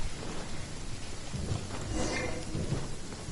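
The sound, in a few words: rain and thunder in the video game Genshin Impact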